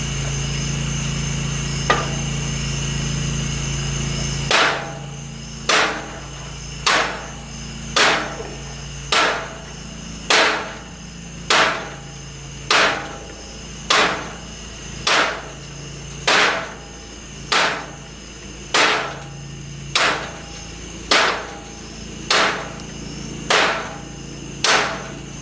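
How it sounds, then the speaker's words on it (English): A new Doomsday Katana sword strikes a granite slab at night, about seventeen sharp metallic impacts in a steady rhythm, each ringing briefly, with a low steady hum underneath. "A few more strikes on my new Doomsday Katana on the granite at dark."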